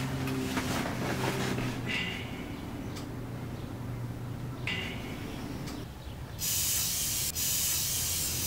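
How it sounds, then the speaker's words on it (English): An aerosol spray can hisses in several bursts, a short one near the start, then longer sustained sprays, the last loud and continuous at the end, in an indoor room. "Stop spraying that poisonous gas."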